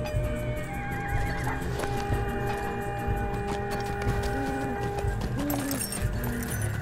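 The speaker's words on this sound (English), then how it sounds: "Let me get on my goat here." Goat mount in the Lord of the Rings Online video game, with clopping hoofbeats and whinny-like animal calls over a steady bed of game music and ambience, moderately loud throughout.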